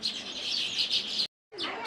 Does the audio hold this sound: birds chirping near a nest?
yes